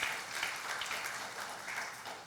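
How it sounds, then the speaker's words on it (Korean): Congregation applauding during a Sunday church worship service: a steady, dense wash of many hands clapping together, fairly soft and even throughout, with no voices over it. "박수."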